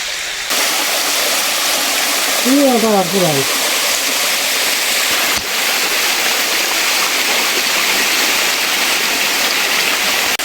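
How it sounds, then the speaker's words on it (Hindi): The Kakoi Jana waterfall roars with a loud, constant wash of rushing water, while a voice briefly sounds over it partway through. "मेरे पीछे झरने की आवाज़ आ रहे होंगे"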